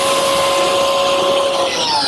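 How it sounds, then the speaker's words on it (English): A biscuit joiner runs steadily as it cuts slots into a tabletop edge, guided along a clamped level, making a loud continuous high-pitched motor whine with a faint steady tone throughout and no talk. "I'll simply run the biscuit joiner against the level and cut the slots"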